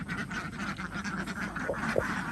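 A flock of laying ducks quacks continuously in the background, a noisy chorus of overlapping calls at moderate distance.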